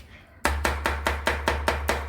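Potatoes being mashed with gram flour for a Punjabi bharta: about nine evenly spaced, firm thuds of the masher striking the bowl in a steady quick rhythm, close and clear with no talking.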